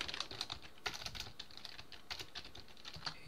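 Fingers type on a computer keyboard in a rapid, irregular stream of crisp key clicks, close to the mic, with no voices.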